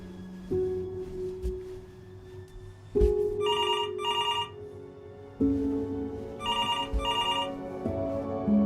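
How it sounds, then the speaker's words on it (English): A telephone rings in the video game Before Your Eyes, with clear repeated double-burst bell rings over a low sustained musical hum, close and steady. "What did your mother hear on that phone call?"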